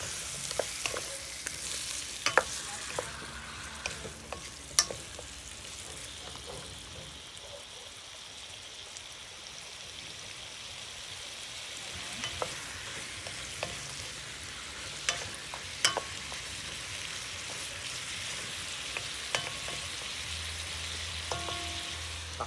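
Pork stirred and fried in a pot for sinigang, a long low steady sizzle dotted with scattered spoon clicks and scrapes against the pot, fairly faint and close, no speech.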